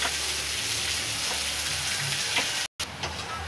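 Onions frying in a pan for a Bengali fish curry, a steady close sizzle with faint stirring clicks and a brief dropout near the end.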